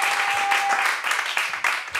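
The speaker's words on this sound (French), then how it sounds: "Je vais vous demander de l'applaudir s'il vous plaît." Audience at an evening show applauds the sound technician, a dense burst of many hands clapping close and loud, steady for a couple of seconds.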